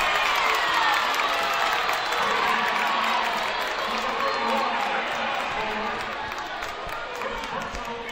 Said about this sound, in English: So, crowd didn't like that one.